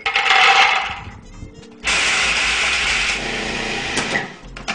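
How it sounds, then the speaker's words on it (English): A food processor grinds hazelnuts into fine powder, a loud, close whirring burst that stops briefly, then resumes steadily for several seconds. "I'm going to put them into my food processor,"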